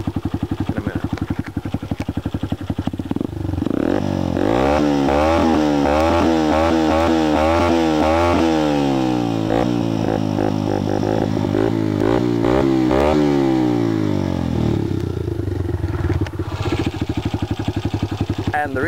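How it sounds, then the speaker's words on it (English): A home-built quad's small engine running on premix, idling roughly at first, then revving up and down repeatedly in loud, sweeping bursts before settling back to a rattly idle, close by. "I'll rev it up a bit so you can hear in a minute."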